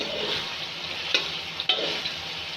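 Diced tomatoes and potatoes frying over low flame in a pan, a soft steady sizzle with two or three brief spatula taps, close and quiet.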